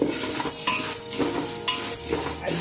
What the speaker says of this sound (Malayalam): ചെറിയ തീര് തന്നെ നമ്മൾ വറക്കണം, അല്ലെങ്കിൽ പെട്ടെന്ന് കളർ മാറും.